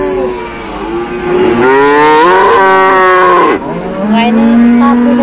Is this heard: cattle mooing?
yes